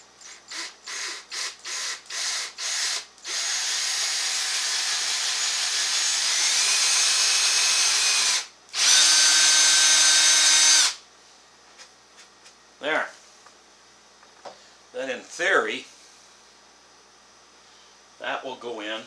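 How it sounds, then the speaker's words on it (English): A power drill bores down through the wood of a Lane coffee table at an old staple hole, several short whirring bursts followed by two longer sustained runs, then quieter handling and talking. "what I'm going to attempt to do is drill down through where the old staple was"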